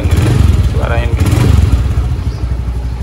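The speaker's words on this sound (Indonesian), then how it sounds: "Barangkali kan kalian di sini ada yang belum pernah dengerin suara Scoopy kan" A 2018 Honda Scoopy scooter engine idles close by with a steady low putter and faint clatter throughout, while a person talks over it.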